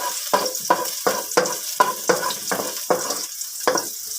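Garlic sautés in a pan for ginisang sayote, a close, soft sizzle broken into about nine regular stirring strokes, each a brief swish and scrape, with no voices.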